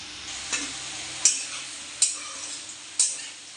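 Potatoes fry in a pan while sabudana khichuri is being made, giving a steady close sizzle broken by sharp stirring scrapes about every second, with no talking.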